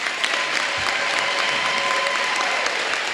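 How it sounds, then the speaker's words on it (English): Steady, full applause from an audience at a school district recognition night, honoring recognized staff members, a dense continuous wash of clapping filling the room for a few seconds with a faint whistle or cheer. "Big round of applause for all these folks, huh?"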